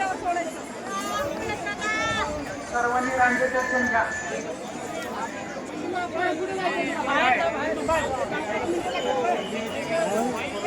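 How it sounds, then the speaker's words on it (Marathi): Devotees throng the Sant Dnyaneshwar Maharaj palkhi in Saswad, a steady babble of many voices and bustle, with one voice speaking up close over the crowd. "गर्दी बघू शकताय, लाईन बघू शकताय, माणसं भरपूर भाविक उपस्थित झालेले आहेत."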